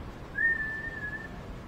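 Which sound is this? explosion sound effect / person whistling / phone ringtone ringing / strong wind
person whistling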